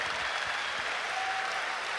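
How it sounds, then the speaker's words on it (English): An evening audience applauds its speakers, producing a steady, even roll of clapping heard from within the room, moderately loud and uninterrupted by talk. "Could we have a round of applause for Kent and all of our speakers here tonight?"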